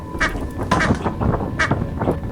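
Rubber duck item in the Lethal Company video game giving several nasal quacks in an uneven series, loud and close, with no talk over them.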